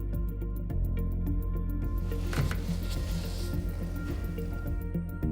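A foam dirt bike air filter is gently squeezed to press out excess oil, giving soft, wet squishing and dripping sounds that stay fairly quiet and close against a faint background hum.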